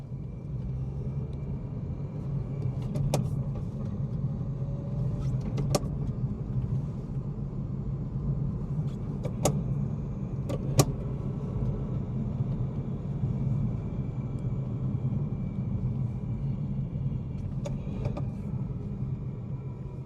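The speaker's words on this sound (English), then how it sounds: "let's do a few more shifts in this thing so you guys can fully grasp how good this shifter" Manual BMW M240i driving with a steady, low engine rumble throughout and a few brief sharp clicks from the gear shifter. Nobody speaks.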